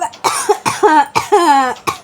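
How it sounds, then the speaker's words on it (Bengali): A run of harsh, close coughs, about five bursts in quick succession, loud and raspy with a strained, throaty edge. "এমন লঙ্কা বেটে দিয়েছি এখনও কাশি উঠেছে"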